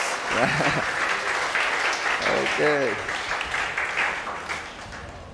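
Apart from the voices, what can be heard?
congregation applauding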